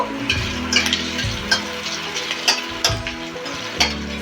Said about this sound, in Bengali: একটি কাঁচা লঙ্কা কুচিয়ে নিয়েছিলাম, এটাও দিয়ে দিচ্ছি। এইগুলো আমি হালকা করে ভেজে নেব।